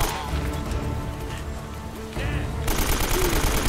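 Repeated handgun shots pop in steady succession during a cover-based firefight in the video game Uncharted: Drake's Fortune, mixed with ongoing game noise and faint talk.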